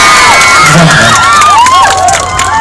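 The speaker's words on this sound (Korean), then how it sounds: "이 자리에 함께 해주신 모든 여러분들께 큰 박수 부탁드릴게요" Loud crowd cheering at a Korean ambassador appointment ceremony in Gwangju, with high-pitched screams and whoops rising and falling over a roaring audience, close and sustained throughout.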